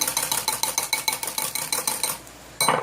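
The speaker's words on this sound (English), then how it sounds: "Beat them till it's real frothy." Egg whites beaten by hand until frothy, a whisk rapidly and steadily clicking against the bowl at close range, about eight strokes a second, then a brief pause and a final louder rattle at the end, with no talking.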